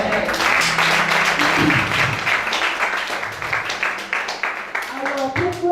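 A church congregation breaks into sustained applause and cheering to acclaim the Lord during a prayer service on intercession for Gabon, dense clapping loud throughout with voices mixed in.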